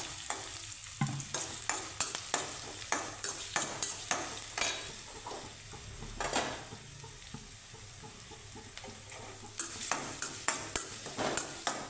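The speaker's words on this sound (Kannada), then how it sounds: "ಈರುಳ್ಳಿ ಹಾಕ್ಕೊತೀನಿ, ಈರುಳ್ಳಿ ಚೆನ್ನಾಗಿ ಬಾಡಿಸ್ಕೊಳ್ಳೋಣ." Onion sautéing in hot oil with cumin and mustard seeds, a steady close sizzle broken by frequent sharp scrapes and clinks of a spoon stirring against the pan.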